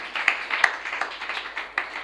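A church congregation claps in response to a preacher's call about God's promises, a dense, steady patter of many hands with a few sharper louder claps standing out.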